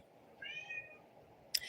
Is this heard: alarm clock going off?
no